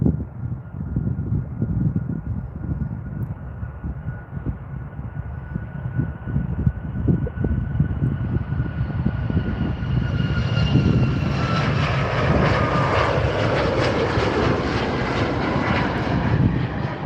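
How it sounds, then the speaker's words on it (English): WestJet Boeing 737 MAX 8 jet taking off from Calgary Airport runway 35R, a loud steady engine roar that builds and rises in pitch as the aircraft rolls down the runway, with no talk over it. "here goes the WestJet 737 MAX 8. This one's in WestJet's new livery. So rolling down the runway now."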